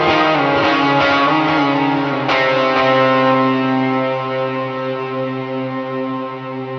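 Electric guitar octave run that settles into a single held note, swelling into a washy ambient effect with echo and chorus as it rings out alone and slowly decays.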